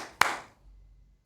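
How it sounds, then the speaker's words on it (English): A single sharp hand clap, near and crisp, used as a command to switch lights back on, followed by a brief soft room tail and low hum. "now I'm going to clap them again for the lights to come back on in just a moment"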